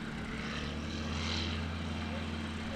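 A Diamond DA20 light aircraft taxiing at Lelystad Airport makes a continuous propeller engine hum with a buzzing harmonic tone, heard from nearby at a steady level.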